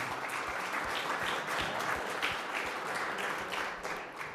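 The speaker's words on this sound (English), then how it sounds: "Give us a nice round of applause for them." A community safety meeting audience applauds a catering service with steady, moderately loud clapping that fills the whole stretch without pause.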